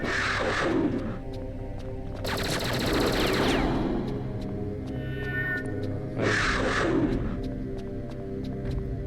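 Sustained gunfire from the video game Perfect Dark, with the trigger held down for continuous shooting, a steady dense rattle running through the whole stretch, loud and close, with bursts of sharper blasts in between.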